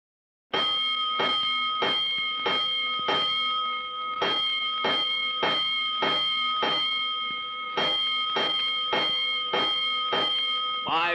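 Repeated ringing bell strokes in a steady rhythm, loud and metallic, a string of fire alarm bell clangs signalling a five-alarm fire, one after another with no talk.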